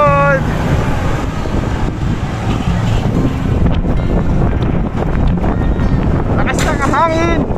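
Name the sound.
strong wind blowing into the microphone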